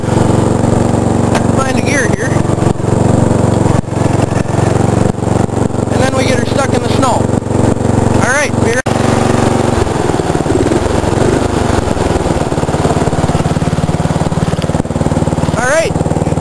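A racing lawn mower engine idles steadily after a cold start, a loud, continuous mid-pitched rumble with slight rev fluctuations, while a person talks over it at intervals.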